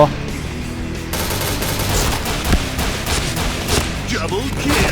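Automatic gunfire from a cash-shop gun in a Thai online shooter, a dense, constant roar of rapid shots and game effects that runs throughout and sits loud in the mix.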